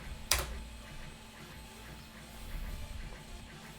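A 3D printer runs in the background of a room, a soft, continuous mechanical whir with faint rhythmic stepper-motor pulses and one sharp click near the start, quiet and steady throughout.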